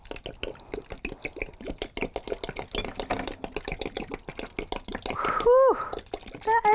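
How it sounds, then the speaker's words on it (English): Copper dye liquid for dyeing Chilkat weaving weft is poured into a bucket, making a steady run of close, rhythmic splashing and dripping that grows fuller toward the end. "I'm just going to pour this right in."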